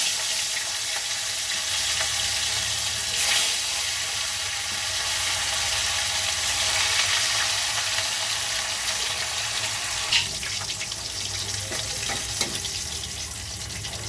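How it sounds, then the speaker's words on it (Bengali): Catla fish pieces frying in hot oil, a dense, steady sizzle with crackling bursts running throughout, loud and close with no talking. "এই যে তেলটা আমার গরম হয়ে গেছে, এবার আমি মাছগুলো দিয়ে দেবো।"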